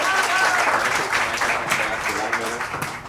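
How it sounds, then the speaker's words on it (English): Audience applause rising after a round of applause is called for a guest at a climate change talk, a dense steady patter of many hands filling the room, with voices mixed in underneath. "How about a round of applause"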